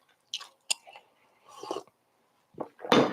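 Someone chews a crunchy stuffed waffle close to the mic, with quiet irregular crunches and bites spread across a few seconds, ending in a louder crunch.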